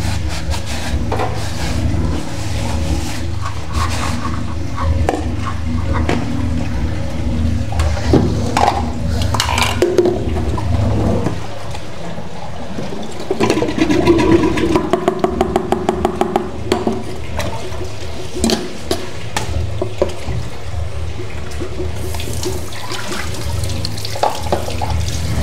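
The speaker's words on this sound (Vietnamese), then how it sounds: "Xả nước đi." Tap water runs into a kitchen sink while dishes are washed, a continuous splashing stream that swells louder partway through, with occasional clinks and knocks of bowls.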